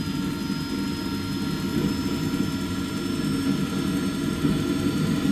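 A large RC jet's kerosene-fuelled gas turbine engine runs during a test start, a steady, loud, whining roar with a high tonal whistle above dense broadband rush, holding nearly constant throughout.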